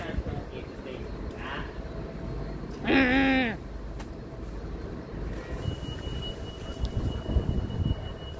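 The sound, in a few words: Amtrak Northeast Regional train locomotive at New Carrollton station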